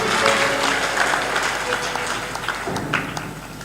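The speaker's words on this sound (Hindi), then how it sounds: "ताली बजाइए दानियों के लिए।" An audience at a religious gathering applauds donors, a broad wash of clapping from many hands that stays steady and fairly loud with some voices mixed in.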